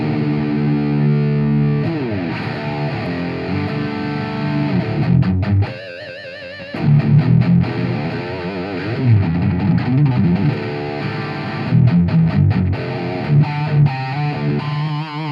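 Palm Bay Guitars AXX2 Avalanche electric guitar in drop D tuning, played with heavy distortion: loud, thick low riffs and chugging chords with a short gap midway, continuing steadily without any talking.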